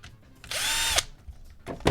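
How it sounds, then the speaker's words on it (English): An inexpensive power drill whirs in one sustained burst of about half a second, close and loud, then stops, during a Wii console teardown; a couple of brief knocks follow. "This is not a particularly fancy drill, I think."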